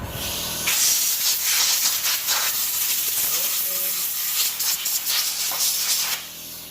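An aerosol can sprays into the body of a disassembled Stihl 025 chainsaw during reassembly, giving a continuous close hiss for about six seconds with slight pulses before it cuts off.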